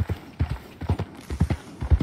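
Horse hooves clip-clopping in a video game, a steady rhythmic trot of paired hoofbeats, close and distinct, repeating evenly throughout.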